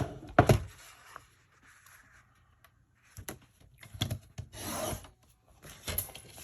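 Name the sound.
paper being cut down for scrapbook card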